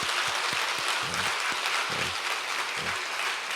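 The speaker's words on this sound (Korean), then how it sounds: "박수 주시기 바랍니다." Congregation applauding during an early-morning church prayer service, a loud, even wash of many hands clapping, with a few low thumps and murmurs underneath, sustained throughout.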